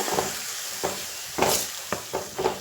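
A damp broken-wheat mixture for upma is stirred in a pan, with soft scraping strokes and light clinks at an irregular rhythm over a low steady sizzle.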